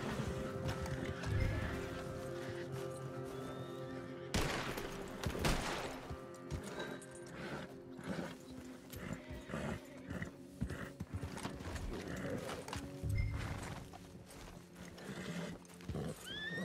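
Horses neigh and their hooves clip-clop in the open world of the video game Red Dead Redemption 2, with faint gunfire bursts in the distance and a fairly quiet overall mix.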